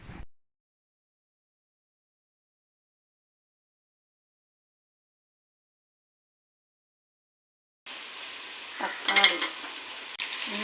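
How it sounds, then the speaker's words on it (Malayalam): Onions sautéing in the oil left from frying prawns for a prawn biryani: a short tap at the start, a long silence, then a steady sizzle with a few stirring scrapes near the end. "ചെമ്മി പൊരിച്ചെടുത്ത് അതേ ഓയിലിൽ തന്നെ ഉള്ളിയും വാട്ടിയെടുക്കുക"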